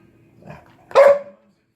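A dog grumbles softly, then lets out one loud, close bark back at its owner, alone with no talk.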